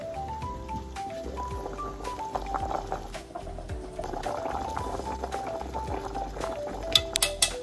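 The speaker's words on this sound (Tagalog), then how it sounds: "Kumukulo na yung ating potato" A pot of potatoes bubbling and simmering steadily nearby, with a low rolling boil and a faint tonal hum underneath; a few clinks near the end.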